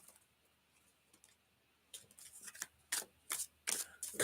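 A deck of tarot cards shuffled by hand: soft rustling at first, then a run of sharp, crisp riffling bursts close by that grow louder and more frequent, with no voices.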